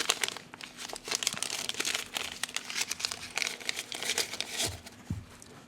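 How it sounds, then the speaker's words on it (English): Crinkly wax paper is unfolded from around a GEC Northfield UN-X-LD jack knife with burnt stag handles, giving steady close crackling and rustling with a few sharper tearing crinkles near the end. "The knife itself was wrapped in this wax paper."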